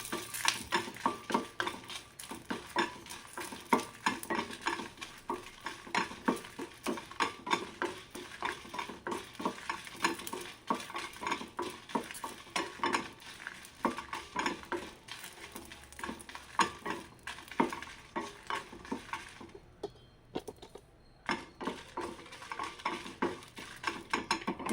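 Green chillies roast in a little oil in a pan while being stirred, producing quiet irregular scraping and clinking from a utensil over a soft continuous sizzle, with a brief pause near the end.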